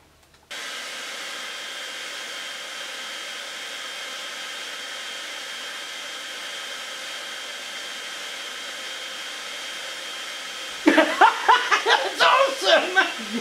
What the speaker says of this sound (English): if I put a hairdryer on that, we can see if it spins